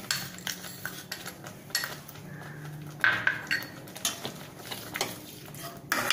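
Tamarind pulp and jaggery being stirred into a thin taro leaf curry in a pot, with a spoon clinking and scraping against the metal in irregular close taps and rubs, no talking.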